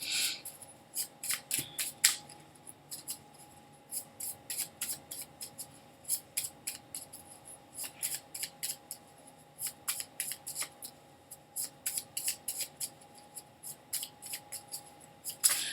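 Quiet, repeated riffling and soft flicking of cards, in short irregular bursts throughout, close and faint with no talking.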